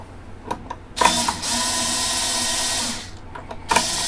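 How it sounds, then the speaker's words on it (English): Acoustic guitar strings being slackened with a tuner, a steady mechanical whirring wind lasting about two seconds, framed by a few short clicks and taps before and after. "So I'm just going to loosen these right now enough to get that bridge saddle out of there."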